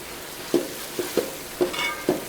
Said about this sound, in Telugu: అల్లం పేస్ట్ వేసుకుని మంచిగా కలిపేసుకుందాం.